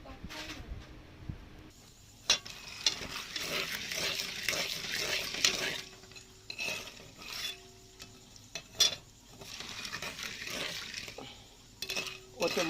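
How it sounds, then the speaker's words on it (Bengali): Spiced corn kernels in a little oil, with chilli powder and salt, fry in a pan for popcorn. Bursts of sizzling come between scraping stirs and clinks against the pan, and a voice is heard now and then. "এখন এই ভুট্টা ভাজবো, ভেজে খাওয়া হবে।"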